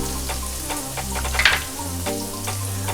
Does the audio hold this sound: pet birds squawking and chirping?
no